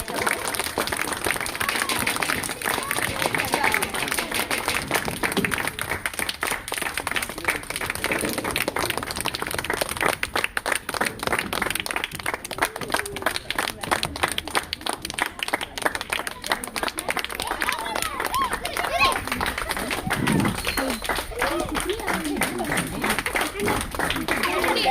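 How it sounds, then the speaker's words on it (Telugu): An outdoor school gathering of an audience claps in a long, sustained burst of dense applause to honour the headmaster, with crowd murmur and voices mixed in throughout. "అందరూ గట్టిగా చప్పట్లు కొట్టండి మాస్టర్ గారు"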